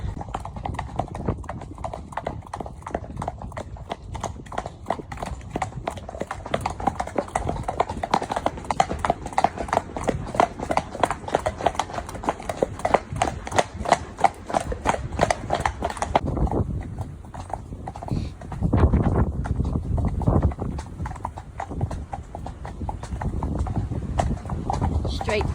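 A 15-hand horse named Zorro clip-clops steadily along on his first hack, close and rhythmic for about sixteen seconds before the hoofbeats fade, with a person talking over them.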